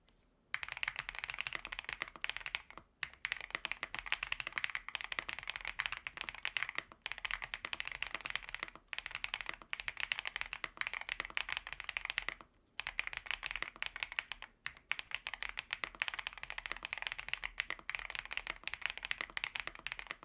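A Bridge75 mechanical keyboard is typed on in steady bursts of crisp, close key clacks with brief pauses between runs, quiet and alone with no talking.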